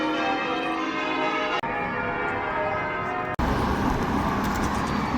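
Church bells ringing loudly and continuously in a city centre in Bristol, with a steady, dense peal of overlapping tones and no talking.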